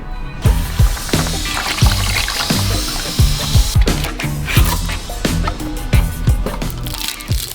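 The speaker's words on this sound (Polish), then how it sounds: "Dolewamy trochę oleju, żeby pompa nie chodziła na sucho." Motor oil poured into a Yamaha motorcycle engine during a pre-season service, a continuous liquid pour and trickle, close and fairly loud, with no one speaking.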